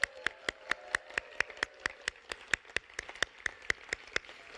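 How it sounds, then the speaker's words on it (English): Rhythmic clapping at a Medical Laboratory Technology class pinning ceremony: a steady, evenly spaced run of sharp, distinct claps that sounds like a small group or a single pair of hands, fairly quiet, with no talking. "join me in a round of applause congratulating the Medical Laboratory Technology Class of 2026."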